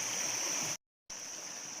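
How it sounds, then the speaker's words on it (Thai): Forest stream flowing along a bank where frogs lay eggs, a steady broadband rush of water heard close and alone, briefly cut to silence partway through before resuming. "นี่ก็เป็นลำธารนะครับ"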